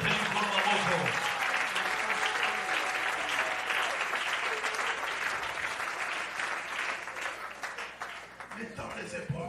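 A church congregation applauding during a Sunday service, sustained loud clapping from many hands filling the room, fading slightly toward the end, with voices mixed in.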